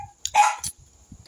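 A dog barks close by, giving a few sharp, loud barks within about a second, with some household background noise.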